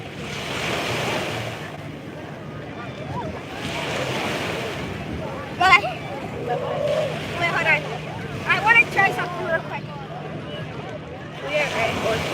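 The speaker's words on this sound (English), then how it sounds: "We are at Orchard Beach in the Bronx. Yes, the Bronx has a beach." Ocean waves wash in at Orchard Beach in the Bronx, rising and falling in slow surges with wind buffeting the microphone. A person talks over the surf.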